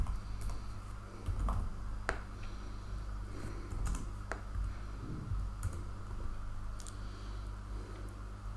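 Computer keyboard being typed on, scattered light key clicks in short bursts over a low steady background hum, fairly faint and close.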